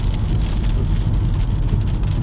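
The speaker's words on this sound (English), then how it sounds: "Rain is starting to pick up." Hurricane Dorian's rain and wind pound down near Indian River Drive in Sebastian, a loud, unbroken roar of heavy rain and gusts with scattered splatter and no break.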